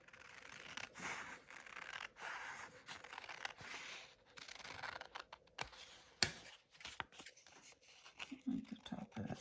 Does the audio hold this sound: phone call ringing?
no